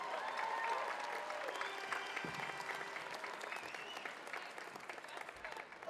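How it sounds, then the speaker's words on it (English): A crowd applauds during a pro basketball game in an arena. The clapping is fairly faint, broad and sustained, with a roomy, distant quality and arena noise mixed in. "Charles Janice, let's give him a round of applause, ladies and gentlemen."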